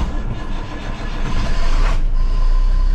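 The diesel engine of an International Terrastar snowplow truck starts from a push-button ignition, cranking briefly before catching into a loud, steady rumbling idle close by.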